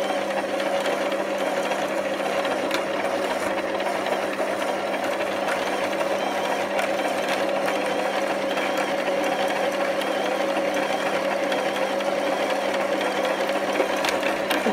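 A sewing machine stitches patches onto a shirt, its steady mechanical whirr running continuously at close range without pause.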